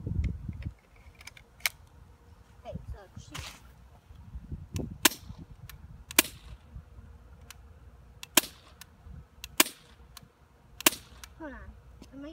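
Sharp shots from a Bear River BOA semi-automatic CO2-powered BB pistol, around eight separate cracks spaced one to two seconds apart against background rumble and handling noise, fairly close.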